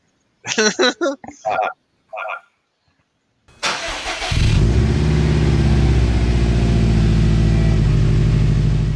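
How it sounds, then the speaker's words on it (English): A Subaru boxer engine cranks and starts, then settles into a loud, close, lumpy idle rumble. Short bursts of speech come before it, followed by a brief pause. "we're going to be talking about the Boxer Rumble and how you get that iconic sound"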